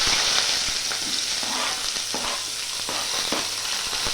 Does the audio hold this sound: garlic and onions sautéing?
yes